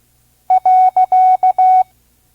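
Six clean beeps alternate short and long to spell the Morse period, sounded alone as a steady practice tone in a vintage ARRL code lesson at 5 words per minute.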